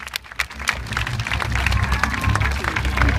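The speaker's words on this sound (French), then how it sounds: "Sous vos applaudissements, bien sûr." Audience applause fills a bird park show near Lyon, dense steady clapping from a crowd for a few seconds, with a voice faintly mixed in.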